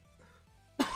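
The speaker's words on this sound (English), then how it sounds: "I coughed up. Sorry about that." A single sharp cough bursts out near the end, close and loud after a quiet stretch of low background hum.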